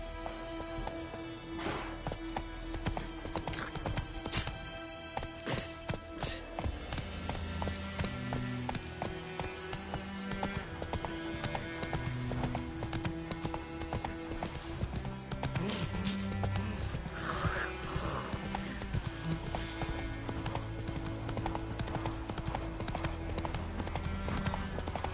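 Geralt's horse Roach from The Witcher 3 gallops in a game scene, with rapid, continuous clip-clop hoofbeats over a busy layer of music and ambience.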